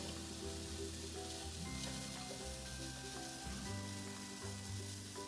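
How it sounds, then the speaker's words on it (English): Onions and leeks dry-sauté in a heated pan for minestrone soup, giving a steady close sizzle with occasional stirring scrapes and a low hum underneath, and no one speaking. "you can hear that sizzle"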